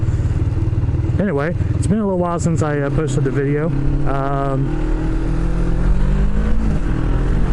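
A motorcycle engine running at a steady low idle, a constant close rumble that continues throughout while someone talks over it.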